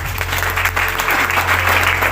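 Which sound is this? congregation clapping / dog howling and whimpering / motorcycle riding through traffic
congregation clapping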